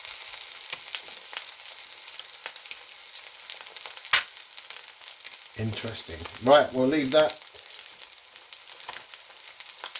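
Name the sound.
vegan sausage patty sizzling in a frying pan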